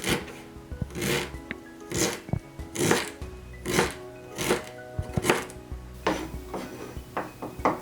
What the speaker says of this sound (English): And then just finely chop it,